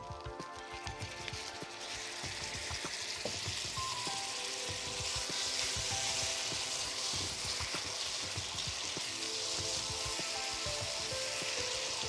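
Sour yogurt poured into hot mustard oil sets off a sudden, steady hissing sizzle that stays fairly soft and close, with faint crackles throughout.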